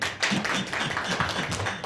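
A church congregation claps together during a Korean sermon, a dense, steady patter of hands close by that fills the room briefly.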